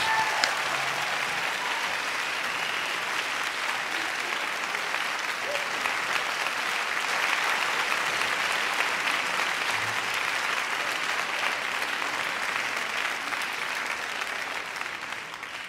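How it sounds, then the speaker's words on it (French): A hall audience applauds a performer before he comes on to play, sustained broad clapping that stays even and fairly loud for the whole stretch, with scattered voices faintly beneath. "il faut l'applaudir avant"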